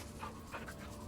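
A dog in the Baldur's Gate 3 video game pants and whimpers softly, a few quick breathy puffs with a small whine over a steady game ambience, faint and brief, with no talking.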